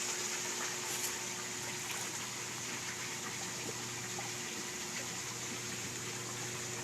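Water trickles past an imperfect drain seal into a 3-inch drain pipe, a steady soft wash of running water with a faint constant hum underneath, continuous and fairly quiet throughout.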